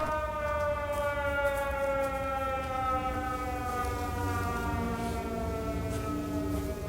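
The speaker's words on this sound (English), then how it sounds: "This is probably Howard up here with the siren" A loud, continuous wailing siren drones steadily for several seconds, its layered tones sliding slightly lower in pitch.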